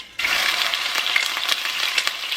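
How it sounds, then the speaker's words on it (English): Big chunks of pork stew meat frying in a pan, a steady loud sizzle that starts abruptly and holds, with small crackles and pops throughout. "we're going to start frying our pork meat"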